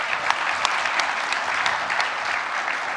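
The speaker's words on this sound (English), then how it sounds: "Can I get a round of applause for how yesterday went?" Steady applause from an audience, many hands clapping together in a dense, continuous patter with sharp individual claps popping out, fairly close and loud throughout, no speech over it.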